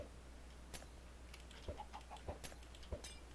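A chicken in a PvP video game gives a few soft, faint clucks with small thuds of being hit, spaced across a quiet stretch.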